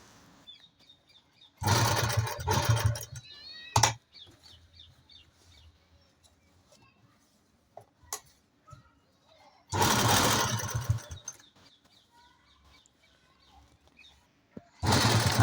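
A sewing machine stitches the neck onto a kurti in two loud, sustained bursts of whirring, separated by quieter gaps with faint clucking chickens in the background.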